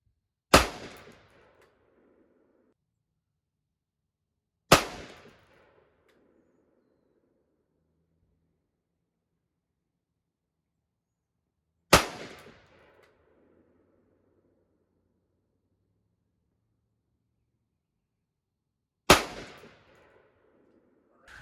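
A carbine rifle fires single, loud shots during zeroing at a range, each spaced several seconds apart with a short ringing decay into silence; four clear reports and the start of a fifth.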